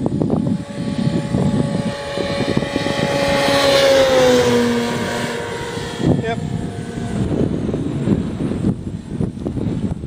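A one-third scale Fly Baby model airplane makes a full-throttle pass, its propeller engine whining as it rises and falls in pitch while sweeping past, loud at the peak, with voices talking nearby.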